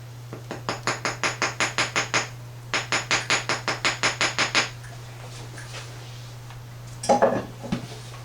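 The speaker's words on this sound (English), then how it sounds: "I'm gonna hit this with a hammer to kind of flatten it out a little bit" Rapid metallic hammer strikes flattening silver solder in two quick bursts of about a dozen blows each, close and sharp, followed by a brief clatter.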